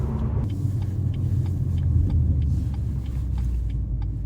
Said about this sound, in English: That M Performance exhaust is really banging right now.